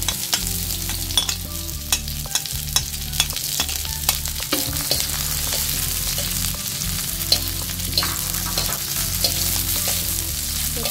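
Chili, onion and then tomato are stirred in a hot pan for a tomato egg dish, giving a loud, continuous sizzle marked by frequent sharp clicks of the utensil against the pan. No one speaks.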